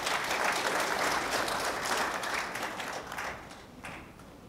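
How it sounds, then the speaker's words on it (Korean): Audience applause at a Gwangju commemoration ceremony for the June 15 North–South Joint Declaration, steady dense clapping from a hall crowd that gradually thins and fades toward the end. "박수로 맞아주십시오."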